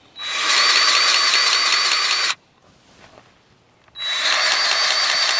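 A grease gun works grease into a fitting on a tractor, giving two steady, loud mechanical whirring bursts of about two seconds each with a short quiet gap between them.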